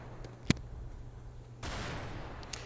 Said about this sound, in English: As gunshots ring out up in the gallery.